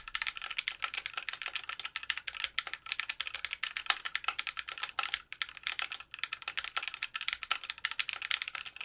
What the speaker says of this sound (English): It's great for typing, great for gaming. You still get some clacky, but it's still quiet.